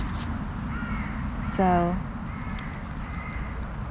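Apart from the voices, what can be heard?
birds calling, scared away; gulls feeding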